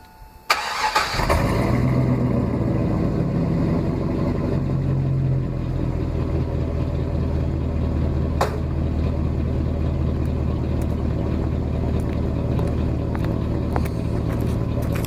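A 2001 Chevrolet Silverado Z71 pickup's engine cranks and fires, then settles into a steady, loud idle with a deep exhaust rumble that continues through to the end.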